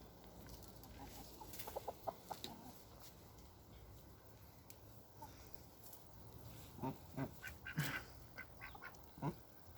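A rooster clucks and ducks quack softly at a distance, scattered calls over a faint, steady outdoor background, growing busier toward the end.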